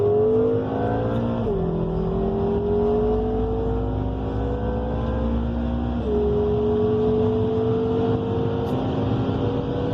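A bone-stock 2013 BMW M5 pulls hard in a 40 mph roll race, its engine droning loud and steady with rising pitch, dropping briefly at two gear shifts before climbing again.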